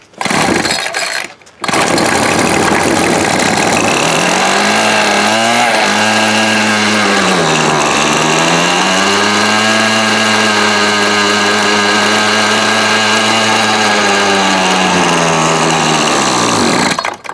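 Old Ryobi 31cc 700R two-stroke string trimmer engine firing after a brief start, then running loud and close with a rough, wavering buzz as the revs rise and sag.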